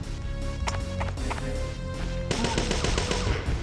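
Gunfire in the video game Parasite Eve 2, shot at barrels in a mine: sharp repeated reports crack out in uneven bursts, then a denser, busier volley of shots over a steady game-music bed.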